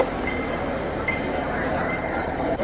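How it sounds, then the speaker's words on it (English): Inside the Hong Kong airport inter-terminal train, a steady rumble of the carriage running along the track with a faint high whine, voices murmuring quietly underneath. "So this is the train that will take us to the next terminal"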